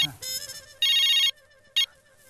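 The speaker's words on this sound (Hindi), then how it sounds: "लग रहा कस्टमर का फोन आ लिया।" Mobile phone ringtone chiming indoors in short bursts of bright electronic melody, loud and close, separated by brief gaps with no talking.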